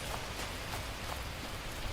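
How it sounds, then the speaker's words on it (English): Steady rain falling in the survival video game Last Plague Blight, a soft continuous hiss with faint pattering drops throughout, fairly quiet and unbroken. "Damn rain."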